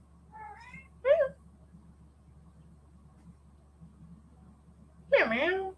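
A pet cat meows in a room, with a couple of short, close calls early on and a louder, drawn-out meow at the end, over a low steady hum with voices nearby.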